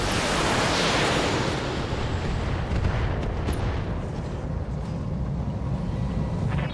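The Stormbreaker weapon firing in a video game: a dense, rumbling roar of heavy fire that fills the whole stretch at steady loudness, broken by faint sharp cracks.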